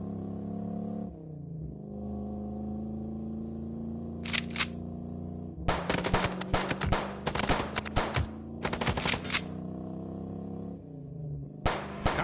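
Video game gunfire in Chicken Police, heard over a steady car engine drone: a short burst, then dense rapid volleys of sharp shots, loud and close, with a final burst at the end and no talk.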